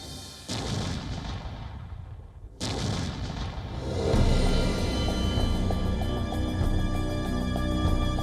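Indian Army artillery guns firing, two heavy booming blasts about two seconds apart followed by a long rolling rumble that stays loud to the end.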